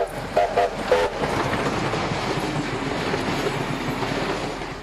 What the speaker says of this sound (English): steam trains started spewing smoke and cinders into the air